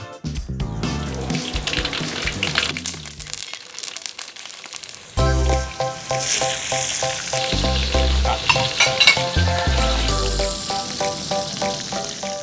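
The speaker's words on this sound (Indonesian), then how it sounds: "Wis Jo, langsung goreng aja cabai dan potongan tomatnya." Fresh chillies and tomato pieces frying in hot oil for Indonesian sambal, a loud, continuous sizzle with scraping and stirring, rising sharply as more ingredients hit the pan partway through.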